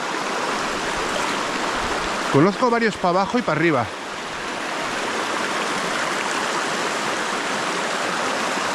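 A small mountain stream of clear water rushes steadily and loudly throughout as a constant broadband flow, with someone briefly speaking Spanish near the middle over the water.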